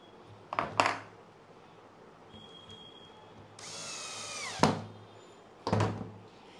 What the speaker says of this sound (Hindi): ड्रिल मशीन की आपने स्पीड जो सी करनी है बिल्कुल नॉर्मल करनी है